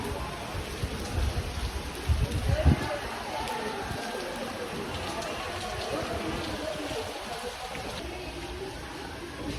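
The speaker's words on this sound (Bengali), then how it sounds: "অনেকদিন পর বাংলাদেশে আজ বৃষ্টি হচ্ছে" Rain falling outdoors in Bangladesh at a school, a steady broadband patter with a brief louder burst early on.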